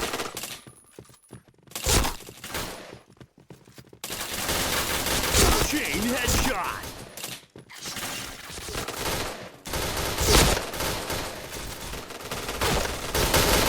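STG44 assault rifle fire in the video game Point Blank, long stretches of dense, rapid automatic shooting that continue almost without pause, loud and close, with brief gaps and quieter scattered shots at the start.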